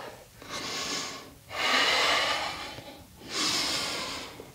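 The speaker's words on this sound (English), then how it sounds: "Inhale up." Deep, audible breaths during a yoga core exercise: three long airy inhales and exhales alternate in a steady rhythm, close and fairly loud, with no talking.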